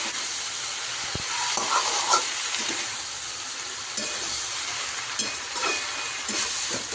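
Water spinach (kolmi shak) stir-frying in a pan on high heat, a continuous hissing sizzle broken by utensil scrapes and clinks as the greens are tossed, with no voices.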